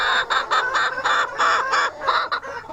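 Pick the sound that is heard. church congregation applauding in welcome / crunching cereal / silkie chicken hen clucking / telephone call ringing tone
silkie chicken hen clucking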